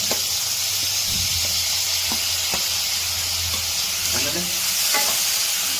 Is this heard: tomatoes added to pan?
yes